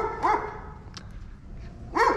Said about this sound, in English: This dog does not like us.